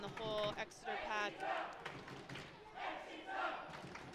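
Crowd at a women's rugby match between Exeter Chiefs and Loughborough Lightning applauding and cheering, with a broad steady roar and shouts rising above it, heard at a distance and fairly faint, with a commentator's voice over the top.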